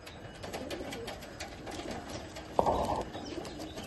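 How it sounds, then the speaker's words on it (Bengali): Soft, low cooing comes from a competition pigeon in a loft in Chinsurah, Hooghly, broken by a short, loud rustle or flutter partway through. "দেখো পায়রা দুটো দেখো"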